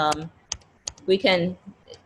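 Scattered key presses on a computer keyboard come in short irregular clicks while a person talks over them.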